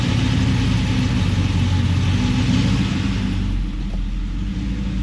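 A Pontiac Trans Am WS6 engine idles in drive, a steady low rumble with a lumpy pulse, close and constant throughout, with a slight dip near the end.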